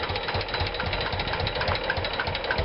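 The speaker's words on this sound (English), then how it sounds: "today we have driven with this nice one-ton tractor about 15 times over the Bode 100" One-ton tractor rolling over a Bode 100 measuring device, a rough, rapid rattling knock repeating continuously and loudly throughout.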